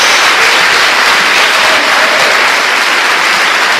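A church congregation claps in loud, continuous applause, a dense wash of hands close and steady from start to finish with no talking.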